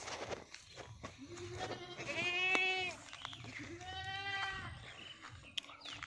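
Goats bleat twice, each call drawn out over about a second, on a Beetal and Barbari goat farm in Dergaon, Golaghat, where pregnant does are kept, with faint farmyard background noise between the calls.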